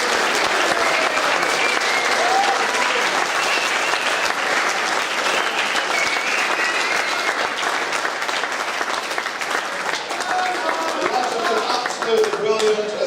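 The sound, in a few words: audience applause for the players and squad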